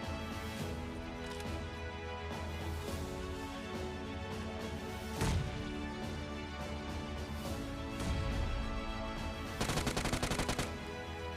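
Gunfire in the mobile shooter BGMI: rapid automatic bursts stand out over a steady game soundscape, with a sharp shot around the middle and a denser volley near the end.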